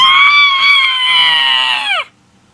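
A voice imitates an angry bird, giving a loud, shrill, sustained screech that holds steady for about two seconds before sliding downward and cutting off abruptly, close to the listener.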